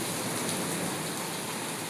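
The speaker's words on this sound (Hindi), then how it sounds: "बारिश तेज हो गई" Heavy rain pours steadily on a village during flooding, a dense, continuous broadband hiss with no breaks, fairly loud and close throughout.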